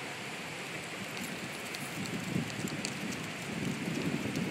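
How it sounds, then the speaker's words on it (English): Steady rain and gusting wind roar together during a severe storm in Terre Haute, a dense, even wash of noise heard from outdoors with no voices. "that's some serious wind over there right now"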